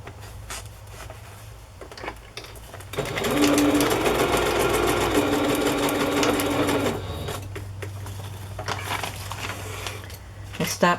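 A sewing machine stitches a fabric cluster onto a journal page in a steady mechanical run of about four seconds, with softer handling noise before and after it.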